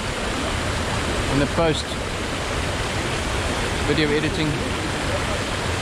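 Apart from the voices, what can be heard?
waterfall water coming down through trees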